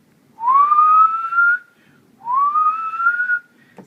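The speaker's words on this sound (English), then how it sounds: "usually I whistle in it because you can kind of see the different decibels" A person whistles into an iPhone 4 voice memo app, two rising whistled notes with a pause between, close and clear with no talk.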